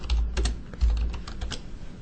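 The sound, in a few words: typing company details on a computer keyboard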